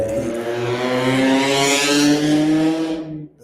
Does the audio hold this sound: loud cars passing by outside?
yes